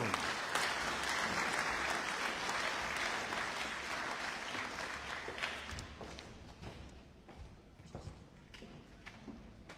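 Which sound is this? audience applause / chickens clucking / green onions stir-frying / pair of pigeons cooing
audience applause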